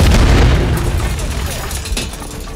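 Enemy gunfire and explosions in the video game Call of Duty Modern Warfare 3, a loud opening boom fading into a rumbling din of shots and blasts, with radio-style voices talking over the combat.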